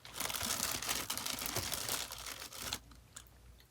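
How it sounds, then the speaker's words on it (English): Crinkly, crunchy handling and chewing of chocolate-covered raisins and peanuts, a close, busy texture of rustling and crunching that runs steadily for about three seconds before dropping off. "I'm eating chocolate covered raisins and peanuts"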